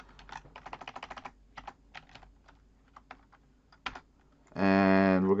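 Fingers tap a computer keyboard in quick clusters of soft clicks, then a few isolated keystrokes, close and clear, before a loud tonal buzz takes over at the end.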